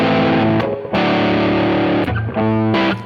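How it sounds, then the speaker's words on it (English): Distorted electric guitar plays a blues rock riff in a roadhouse style, loud and close, with chunky sustained chords broken by short gaps as the volume knob opens up and the distortion grows. No talking. "See, now the distortion pushes more and more in."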